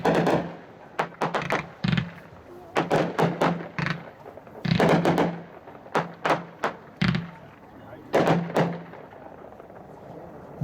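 Consumer firework cake called Wanderlust fires crossette shells, giving a rapid run of sharp cracks and thumping pops in clustered bursts, loud and fairly close, with short gaps between volleys.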